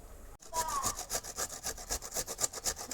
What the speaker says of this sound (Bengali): পুরো মান কচুটাকে এরকম ঘষে নেবে।